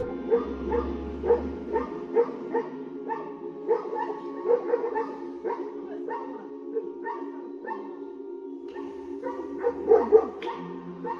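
A pet dog inside a house barks repeatedly during a leopard attack, a series of sharp, fairly close barks and yelps in irregular bursts over low background noise.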